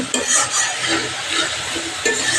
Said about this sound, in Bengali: আমরা কিছুক্ষণ কষায় নেব মশলাটা